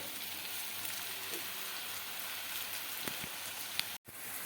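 Parboiled potatoes cut for French fries fry in hot oil over a high gas flame, giving a steady, soft, crackling sizzle throughout, with a few faint clicks and a brief cutout near the end.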